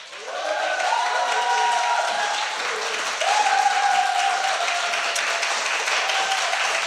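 A studio audience claps steadily for several seconds on a Korean political talk show, a dense, continuous wash of applause with a brief voice rising over it.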